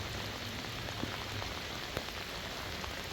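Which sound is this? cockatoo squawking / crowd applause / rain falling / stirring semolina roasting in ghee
rain falling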